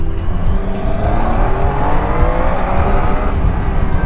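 A 2017 Triumph Tiger 800 motorcycle accelerates hard, its engine note climbing in a loud, continuous rising whine heard close up, with rushing wind noise and no talking.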